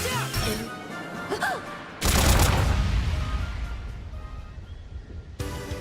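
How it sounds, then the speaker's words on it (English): A massive orbital cannon blast erupts in the Trails in the Sky role-playing game, a sudden loud broadband roar bursting in over game music and tapering into a long rumbling wash before another hit near the end. "An orbital cannon?"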